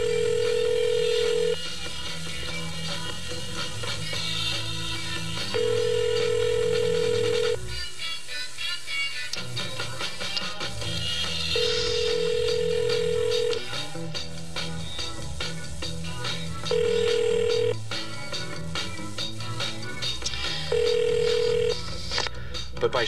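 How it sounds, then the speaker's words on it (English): A telephone ringing tone repeats in regular long bursts with pauses between, sounding over a constant background bed of music. "never-ending ringing tone."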